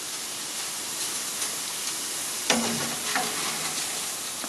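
Vietnamese crispy chow mein noodles fry in a hot pan with a steady, close hiss, broken by a few sharp clatters of stirring near the midpoint.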